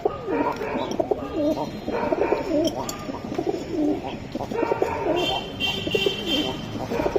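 Several pigeons coo close by in repeated soft, throaty rolling calls, with light chirps and a faint voice mixed in among the birds at a pigeon market.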